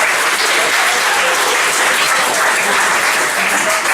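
A stand-up comedy audience applauds loudly and steadily to welcome a comedian to the stage, a dense wash of clapping that holds for the whole stretch.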